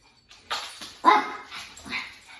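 A pet dog barks near the microphone during a home exercise class, giving three or four sharp, separate barks spaced about half a second apart, each fairly loud, with no talking over them.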